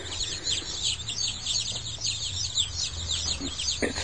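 Baby chicks peep continuously in a brood area, a dense flurry of high, rapid chirps from several birds close by over low background rumble, with no talking.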